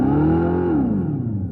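Dodge Charger EV putting out its artificial exhaust note as it revs: a throaty, droning engine-like tone that rises in pitch, then sags and fades, loud and close.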